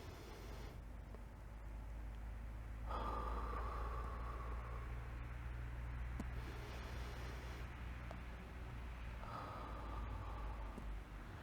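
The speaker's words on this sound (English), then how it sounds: "Take a big deep inhale and blow it out of the mouth. Exhale. 3 more times." Slow, deep breaths blown out through the mouth, two long airy exhales separated by quieter inhales, soft and close during a beginner yoga session for the lower back and hamstrings.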